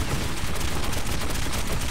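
Machine-gun fire in the video game Metro 2033 Redux, a dense, unbroken roar of rapid shots filling the whole moment at steady high volume with no gaps.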